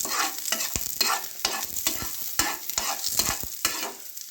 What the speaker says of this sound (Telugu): సిమ్లో పెట్టి ఫ్రై చేయాలి గైస్.